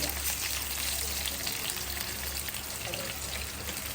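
Mustard seeds and fenugreek sizzling in hot coconut oil for a prawn curry, a steady dense crackle and hiss that stays loud and even throughout, with no talking.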